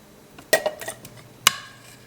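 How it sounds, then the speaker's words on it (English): A metal spoon scraping grease from a pan and tapping it into an Old El Paso refried bean can, giving two sharp metallic clinks about a second apart with softer scrapes between them, close and clear. "I'm gonna grab that grease with a spoon and put inside of my old El Paso refried bean can right here"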